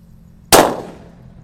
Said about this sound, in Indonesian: Selanjutnya ini ada mercon sunflower yang sudah dibuntel ya